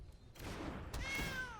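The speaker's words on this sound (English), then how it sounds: "Just another cat." A cat meow sound effect from the Magic Arena digital card game, heard as a short, quiet, tonal mew over soft background noise.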